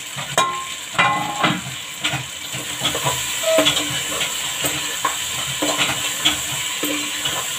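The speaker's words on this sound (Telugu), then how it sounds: "ఇప్పుడు మసాలా పట్టించిన గుత్తి వంకాయలు ఉన్నాయి కదండి, దీన్ని వేసేద్దాం" Masala-stuffed brinjals (gutthi vankaya) fry loudly in a pan, with steady sizzling and hissing and intermittent stirring scrapes and clatters throughout, and no talking.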